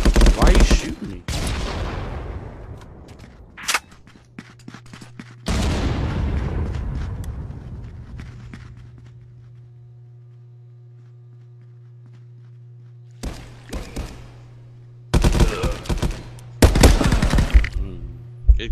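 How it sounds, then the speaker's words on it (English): Bursts of automatic gunfire in the VR shooter Contractors VR, loud and close, several volleys separated by long quiet stretches with a low steady hum beneath. "Why are you shooting me?"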